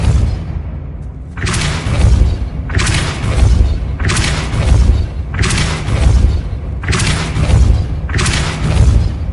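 Spell blasts in a Hogwarts video game, a series of six loud, booming thumps at roughly regular intervals, each swelling and fading into the next.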